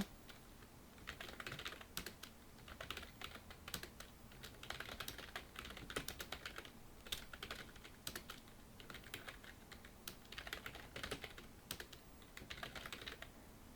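Someone types on a computer keyboard in quick, irregular bursts of soft clicks and taps, close but quiet, with brief pauses between runs of keystrokes.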